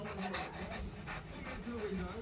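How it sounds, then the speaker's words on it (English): A dog pants rapidly and steadily close by in rhythmic breathy bursts, while a voice talks over it. "do you reckon we need to do something with this dog?"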